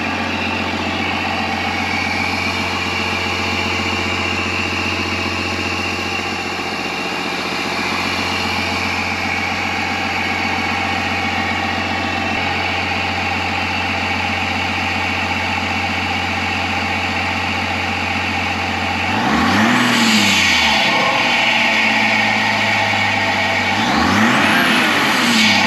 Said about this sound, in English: Significant amount of noise coming from that intake box